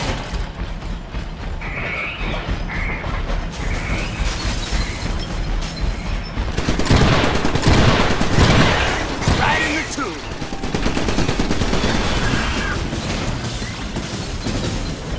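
Gunfire from mech guns in the video game Iron Brigade, rapid bursts and booming impacts mixed with mechanical clatter, loud and dense, surging in waves with some explosions.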